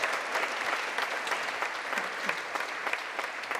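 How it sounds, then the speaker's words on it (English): An audience gives a round of applause at a public library author event, a dense, sustained wash of clapping from a crowd heard at moderate volume throughout. "Round of applause for Jeff."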